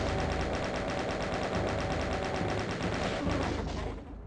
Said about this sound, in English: I'll use the chain gun for this guy though.